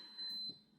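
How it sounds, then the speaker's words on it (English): A rice cooker signals that the rice is done with a short electronic beep, a single brief tone at moderate volume with no voices over it. "You hear the rice cooker? The rice is done."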